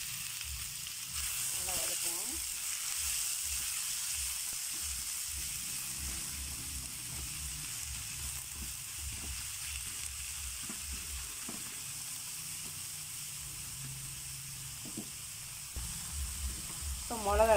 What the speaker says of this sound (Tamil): எண்ணெய் ஊற்றி வச்சு இப்போ வெங்காயத்தை போட்டுக்கோங்க